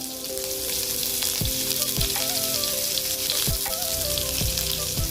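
Onions fry in hot oil with panch phoron, giving off a continuous bright sizzle close to the pan, with a faint intermittent hum underneath and no talking.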